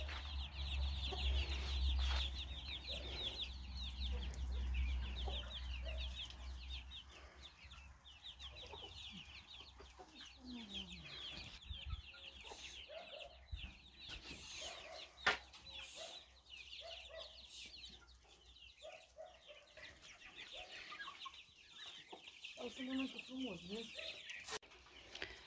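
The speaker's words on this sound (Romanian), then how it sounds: "Ia uitați cum mănâncă pui, buriană." Chickens cluck and chatter steadily nearby while eating weeds, with occasional louder calls and scattered farmyard noises, while a person speaks intermittently.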